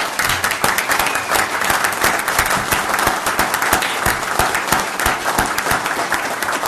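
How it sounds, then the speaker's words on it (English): A standing audience at a city council meeting applauds steadily, many hands clapping in a dense, even roar that holds at the same loudness throughout. "If you would stand up for a little round of applause."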